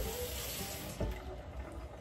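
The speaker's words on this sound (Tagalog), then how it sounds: "Ilagay pa natin ng tubig." Water poured into a cooking pot during home cooking with coconut milk, a steady close splashing pour lasting a couple of seconds with no talk over it.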